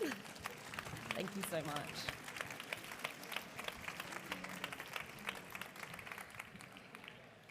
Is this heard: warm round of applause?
yes